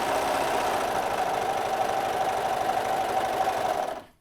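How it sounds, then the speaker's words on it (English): A Brother 1034D serger stitches stretched fabric with a steady, close mechanical whir and fast needle chatter, running alone for about four seconds before stopping abruptly. "So you see, I'm stretching out the fabric as I sew."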